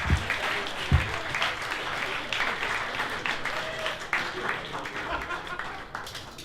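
Audience applause at a comedy showcase in a tavern, a steady wash of clapping with a couple of chuckles and voices mixed in, loud and close throughout.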